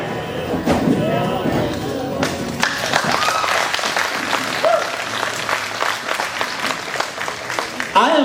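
Spectators clapping during a Spanish dressage riding demonstration, a mix of scattered and sustained handclaps with a few sharp claps or thumps, with a voice heard at times.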